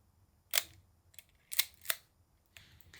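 Leica M6 camera shutter clicks fire several times at irregular intervals, crisp and fairly close, with a quiet pause between shots.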